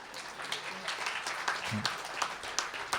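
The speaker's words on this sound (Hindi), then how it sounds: "तालियां बजा सकते हो आप" An audience at a Hindi poetry recital claps steadily, a moderate spread of hand claps with a brief low murmur of voices partway through.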